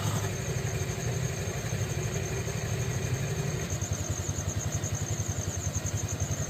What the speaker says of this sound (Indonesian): Bang, matiin dulu motornya